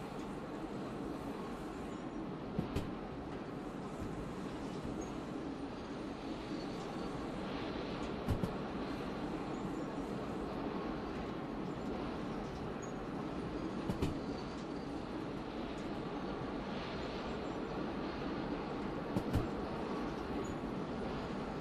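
A train runs steadily in the video game Derail Valley, a continuous rumble of wheels and engine with faint clanks now and then, and no talk over it.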